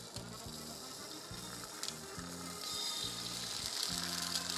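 An egg cracked into a hot pan of bacon fat sizzles continuously, with crackling growing louder near the end over a low rhythmic thumping in the background.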